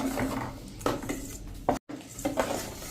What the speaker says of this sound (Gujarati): હવે આ બધા મસાલા આપણે મિક્સ કરી લેશું.